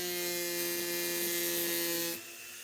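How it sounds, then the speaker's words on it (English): An abrasive cutoff wheel grinds at a pewter casting runner with a buzzing, whining drone that cuts off sharply after about two seconds, leaving a faint residual hum. "Going to try to use this abrasive cutoff wheel to cut off that runner."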